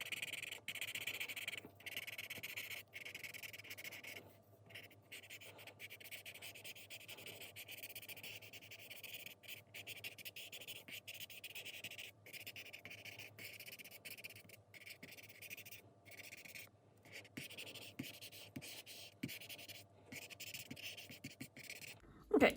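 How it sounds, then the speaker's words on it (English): A paper stump rubbing graphite into a drawing on paper, a soft, continuous scratchy rubbing with short strokes and brief pauses, faint and close, with no talking. "now we'll use our paper stump to blend the places that we shaded in the"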